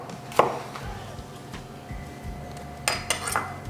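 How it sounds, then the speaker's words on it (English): A knife slices food into thin chips on a board, a few sharp clicks and taps against quiet kitchen background, spaced irregularly with a cluster near the end. "Then I'm just going to slice this one into little chips, thin chips here."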